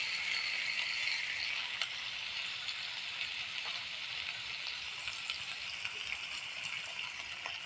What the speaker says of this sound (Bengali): এখন আমি মশলাটা ভেজে নিচ্ছি।